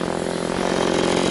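A chainsaw runs loud and close while cutting firewood in frosty woods, its engine snarl steady and buzzing throughout.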